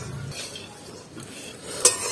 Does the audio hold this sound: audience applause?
no